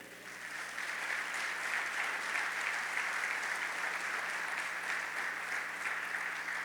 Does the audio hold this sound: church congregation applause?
yes